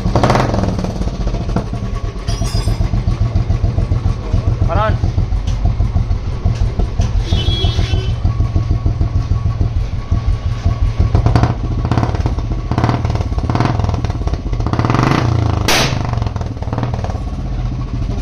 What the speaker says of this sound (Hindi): और एग्जॉस्ट नोट सुनाते हैं इसका, कौन सा एग्जॉस्ट है? बड़ा शॉर्ट पंजाब है, इंदौरी है